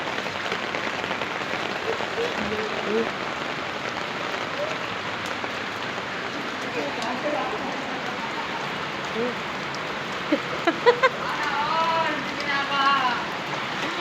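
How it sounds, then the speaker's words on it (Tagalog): Steady, dense heavy rain hissing across the whole stretch during flooding, with a few sharper drips and taps, and faint voices in the background. "lumalakas na naman ng ulan"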